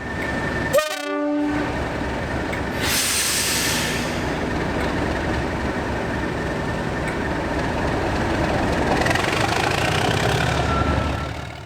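A British Rail Class 37 diesel locomotive sounds a brief horn blast, then settles into a steady, rumbling engine drone with faint background hiss, no voices present.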